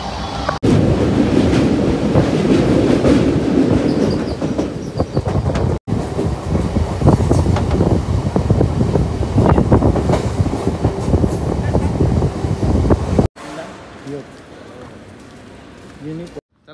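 A suburban train ride arriving at Kharkopar railway station, with a steady rumbling carriage roar and faint rhythmic clatter filling most of the stretch under overlapping voices, briefly cut twice, then dropping to a quieter platform hum near the end.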